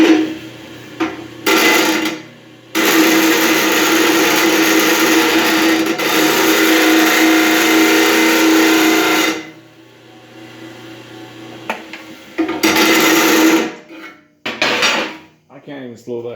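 An old Black & Decker ten inch bench grinder runs with a steady, fairly loud motor hum that starts and stops a few times, with longer stretches of continuous spinning between short pauses and brief clattering.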